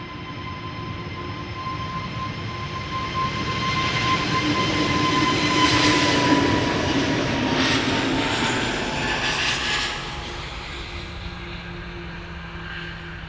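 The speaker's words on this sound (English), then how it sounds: "That is the Emirates A380 landing on what seems to be 36 right." An Emirates Airbus A380 jet lands at Amsterdam Schiphol Airport, its broad engine roar swelling to a loud peak at mid-clip, then easing off into a steady rumble with no voices.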